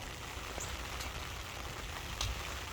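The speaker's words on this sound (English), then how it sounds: "it's starting to rain harder" Steady patter of light rain falling on surfaces nearby, a soft continuous hiss with occasional louder drops.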